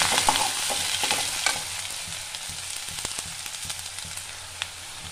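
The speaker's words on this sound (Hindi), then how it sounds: "तेल गरम हो गया, डाल देंगे कटी हुई प्याज।" Chopped onions sizzling in hot oil in a kadhai, a loud dense frying hiss with frequent clicks and scrapes from stirring, no one speaking.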